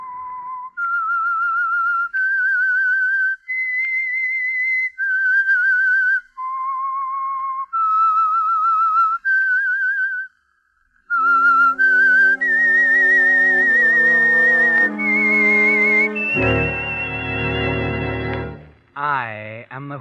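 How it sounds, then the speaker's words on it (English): A clear whistled melody of short rising and falling phrases, the opening theme of The Whistler radio drama, followed by a fuller orchestral swell that ends in a brief descending flourish. "That whistle is your signal for the Signal Oil Program"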